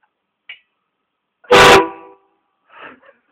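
A single loud train horn blast, hooked up to a battery and air supply, sounds for about half a second and fades quickly, with faint thumps just before it and after it.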